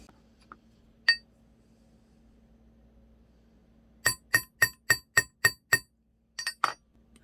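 Hammer strikes stamping letters into a metal necklace blank: a single sharp metallic tap, then a quick run of seven evenly spaced ringing blows, and a final cluster of three faster taps, close and crisp over a quiet room.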